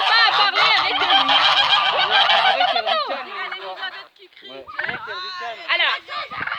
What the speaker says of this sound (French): Les oies, elles se moquent, elles font ha ha ha.